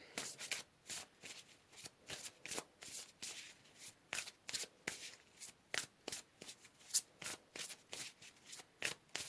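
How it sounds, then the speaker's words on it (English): Tarot cards shuffled by hand in a steady run of crisp riffling bursts, close and clear, repeating about twice a second with no talking over them. "Let's pull some more cards here."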